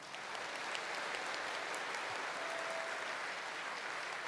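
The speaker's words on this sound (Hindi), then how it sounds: "इन सब के लिए बहुत जोरदार ताली" A large crowd at a devotional gathering applauds the volunteers with sustained, dense clapping that carries evenly from start to finish.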